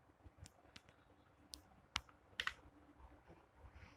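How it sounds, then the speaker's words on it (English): Typing on the Monect PC Remote keypad: scattered light taps and clicks at an uneven pace, a few sharper presses among fainter ones, quiet and close, with no talking. "So if your keyboard is not working, you can use this keypad"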